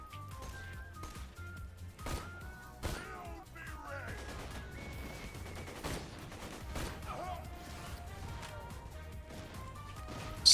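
Borderlands 2 gunfire as a run of scattered, fairly quiet shots and impacts over busy game noise, with occasional louder cracks and no clear talking.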